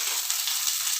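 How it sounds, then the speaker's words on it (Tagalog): Onion sautéing in hot cooking oil in a pan, the first step of Filipino sinigang na bangus, giving a steady, close, continuous sizzle and crackle with no talk. "Igigisa po muna natin yung ating sibuyas."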